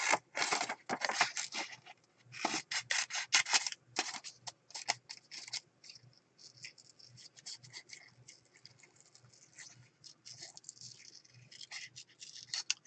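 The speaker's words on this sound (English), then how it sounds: "So I'm just going to trim them." Scissors snip through paper pieces for a steampunk junk journal, with a run of loud, close, crisp cuts early on that give way to quieter, sparser snips and paper rustle.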